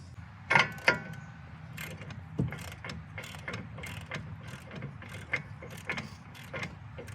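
A ratchet torque wrench tightens the CV axle nut on a Subaru Forester to 190 Newton meters, a run of steady ratcheting clicks with a couple of louder clacks near the start.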